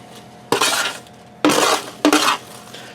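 Hot, crispy potatoes are dropped into a greased baking pan in three loud bursts of scraping and clattering, with quiet pauses between them.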